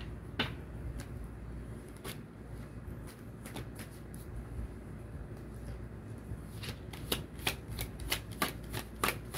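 Tarot cards shuffled by hand up close, a steady papery riffle with rapid snapping flicks that grow busier and louder toward the end, no talking.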